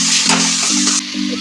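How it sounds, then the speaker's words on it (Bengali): Potatoes dry-fried for kosha alur dom sizzle loudly in a pan while a steady low hum runs underneath, and stirring strokes scrape through it several times before the frying eases off. "এটা একদম কষা আলু, জল দেওয়া হবে না, কষা একদম"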